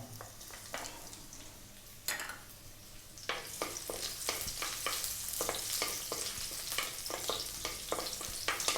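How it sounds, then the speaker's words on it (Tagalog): Ginger and garlic frying in hot oil for a sweet and sour tofu sauce, a quiet hiss that swells into steady sizzling with rapid crackling pops, close up. "So naglagay na ako ng mantika. Unahin natin yung ating luya at ang bawang."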